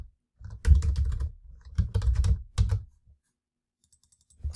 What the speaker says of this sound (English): so let's just type here virtual, start a virtual